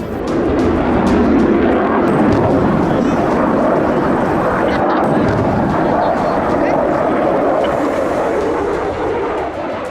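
A Rafale fighter jet flies past, its loud, continuous broadband engine roar filling the scene steadily throughout with little variation in level.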